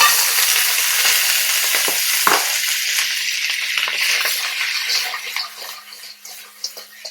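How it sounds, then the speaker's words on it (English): Loud, hissing sizzle of crab frying in a hot pan for Singapore chilli crab, steady at first and then slowly easing off into crackles and pops. "We're going to fry this crab off for just about 30 seconds, not longer, and this is going to give you a nice sizzle."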